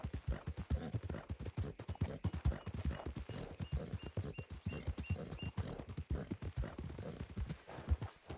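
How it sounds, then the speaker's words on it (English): A horse outdoors clip-clopping in a fast, steady rhythm of sharp hoof strikes on hard ground, moderately close and continuous, with faint background sound. "Is there a horsey outside?"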